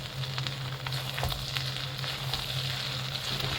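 Pasta with beef and fresh coriander leaves sizzles steadily in a hot pan while a utensil stirs, adding scattered scraping clicks close to the mic, with no talking.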